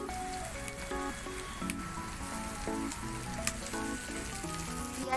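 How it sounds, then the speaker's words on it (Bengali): Onions added to radish chow mein frying in a pan, producing a steady, close sizzle with soft squishy stirring, while music plays underneath. "পেঁয়াজ দিয়ে দিচ্ছি এই যে মূলর ভিতরেই"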